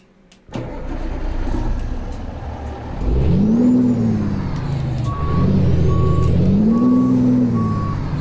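Truck with a Cummins engine in the game American Truck Simulator: the engine starts with a burst, then a deep diesel rumble rises and falls with revving while regular reversing beeps sound over it, with no talking.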